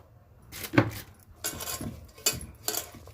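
Wada batter stirred by hand in a bowl, with several separate scraping and clinking bursts of a spoon against the bowl's sides, close and moderately loud amid short quiet gaps.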